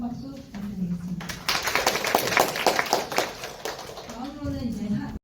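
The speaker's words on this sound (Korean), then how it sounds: "신선현 팀장님께 다시 한번 큰 박수 부탁드리겠습니다" Audience applause after a seminar talk on AI and security convergence, a dense burst of clapping in the middle, framed by a speaking voice at the start and end.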